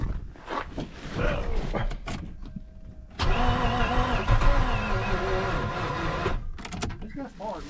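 A car engine cranks slowly and laboriously on a nearly dead battery, a sluggish grinding starter run that fails to catch, with people talking nearby.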